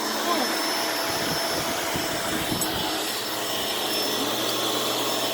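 A new vacuum cleaner runs with a steady, close, broadband whooshing roar, and some low knocks and bumps beneath it as it moves about.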